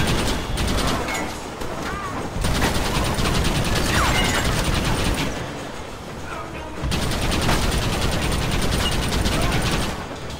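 A Gatling gun in the video game Red Dead Redemption fires rapid, continuous gunfire that rattles loudly in long bursts, pausing briefly between them, with a mechanical whir underneath.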